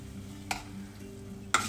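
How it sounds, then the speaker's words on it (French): A spoon stirs and presses rice in a saucepan of sweet pongal with melting sugar, giving soft scraping sounds and two brief knocks against the pan over a low, quiet background. "Nous allons mélanger comme ceci"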